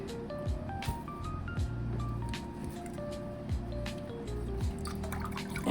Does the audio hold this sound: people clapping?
no